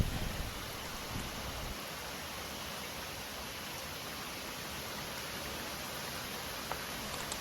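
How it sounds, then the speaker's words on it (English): Rain falls on a sailing catamaran anchored in the Bahamas, a steady, even hiss of drops continuing without a break, with no voices. "It's starting to rain."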